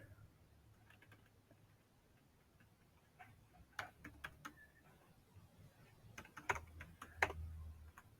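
C++ code is typed on a computer keyboard, with quiet, irregular key clicks that come in scattered bursts and grow busier toward the end, close and soft with no talking.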